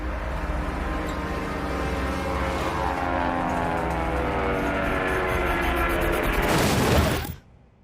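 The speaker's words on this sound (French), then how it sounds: "L'avion chute brusquement contre le flanc de la montagne." A light aircraft dropping toward a mountainside in the United States: a loud, continuous engine drone and rushing roar that swells over several seconds, then cuts off abruptly into near silence.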